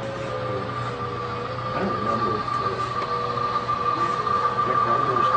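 A large club layout of model trains runs on its track, giving a steady rolling rumble with a faint high whine, continuous and moderately near beneath a mild background murmur.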